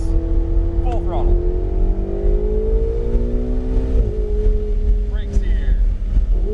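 Ferrari 488 GTB engine at full throttle on a track, a loud rising engine tone heard from inside the car with wind noise, pitch climbing and then dropping at a gear change.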